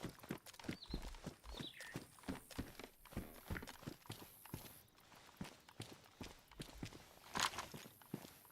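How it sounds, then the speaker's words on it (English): Footsteps in a video game, a steady run of crisp, evenly spaced steps with a hoof-like clip-clop quality, close and fairly loud, with no talk over them. "Footsteps."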